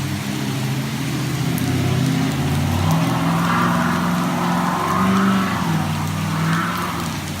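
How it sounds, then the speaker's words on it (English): A car spins its tires on a wet road in heavy rain, the engine droning and revving in waves with a tire whine over a steady rain hiss. "That dude just wanted to spin his tires in the rain."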